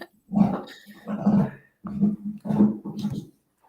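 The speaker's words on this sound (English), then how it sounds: "Our dog got a new bone." A dog chews and growls over a new bone in the background of a meeting, producing rough, throaty bursts in four or five clustered spells with short pauses, fairly close.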